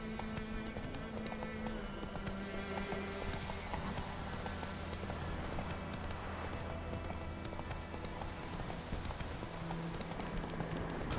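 Horse hooves clip-clop steadily on the ground in The Witcher 3: Wild Hunt, a continuous rhythmic trot under faint game music and ambience, quiet overall.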